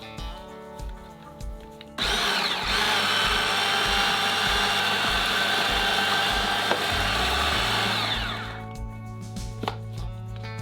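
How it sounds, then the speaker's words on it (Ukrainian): A kitchen blender purees tomatoes, salt, sugar, oil and fresh basil into a pizza sauce, starting abruptly and running as a loud, steady whirring roar for about six seconds before it winds down, with no talking. "Додаємо свіжий базилік і блендеримо."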